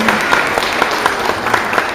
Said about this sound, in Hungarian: meg kell tapsolni benneteket. Nagy tapsok